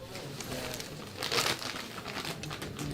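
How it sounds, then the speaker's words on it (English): A food wrapper is deliberately rustled and crinkled close to the microphone at a golf croquet championship, making a steady run of crackly, papery scrunches that peak briefly in the middle over quiet room background. "Thought I'd do some rustling"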